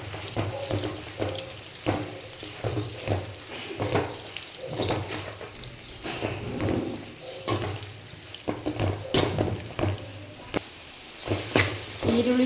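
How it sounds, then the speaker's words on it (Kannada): Finely chopped onions frying in a pan, a soft steady sizzle with repeated scraping and stirring strokes of a spoon against the pan, close and fairly quiet. "ಈರುಳ್ಳಿ ಚೆನ್ನಾಗಿ ಫ್ರೈ ಆಗಲಿ."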